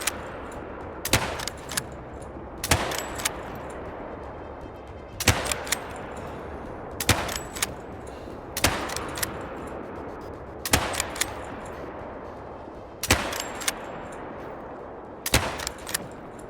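Rifle shots from a .22 Magnum in the hunting video game Hunter Call of the Wild, about eight sharp, loud reports spaced a couple of seconds apart, each with a decaying echo.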